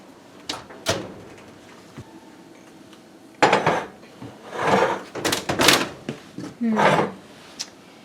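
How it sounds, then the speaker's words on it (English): Pecan muffins taken from a home oven: metal clanks of the pan and rack, an oven door knock, and several louder rattling clatters in bursts, close by with some talking mixed in. "so I'll take them out of the oven and see how they look"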